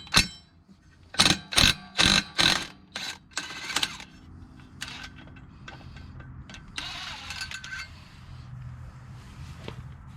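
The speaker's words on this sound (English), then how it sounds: "Now we're going to remove the secondary clutch, lefty-loosey, with an 18mm socket." An 18mm socket on a ratchet loosens the secondary clutch nut of a Segway Villain UTV, a string of loud, close ratcheting and impact bursts early on, followed by sparser, fainter clicks and tool clatter.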